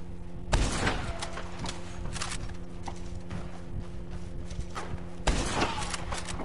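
Two sharp Carcano rifle shots in Red Dead Online crack out about five seconds apart, each loud and brief, with scattered softer clatter and hoof-like thuds between them.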